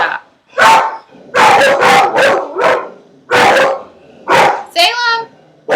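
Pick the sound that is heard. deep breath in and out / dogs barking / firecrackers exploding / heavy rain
dogs barking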